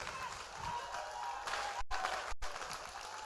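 A crowd claps and shouts in a lively, continuous burst, the noise fairly distant and washing together with some raised voices.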